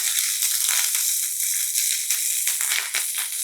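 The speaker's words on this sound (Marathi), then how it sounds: "फक्त एक तीस चाळीस सेकंद ठेचा छान परतून घ्यायचा" Chili-ginger paste with asafoetida and curry leaves frying in hot oil, a loud, close, continuous sizzle with crackling spits and bursts throughout.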